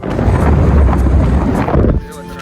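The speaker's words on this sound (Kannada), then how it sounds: "ಒಂಥರ ಗಾಳಿ ಹೊಡಿತೈತೆ." Strong wind at a high seaside viewpoint in Kanyakumari buffets the microphone with a loud, continuous low roar for two seconds before abruptly easing.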